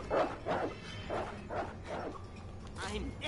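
A dog barks a few times in the video game Resident Evil Resistance, with short, fairly loud barks spread through the moment while a person talks over them.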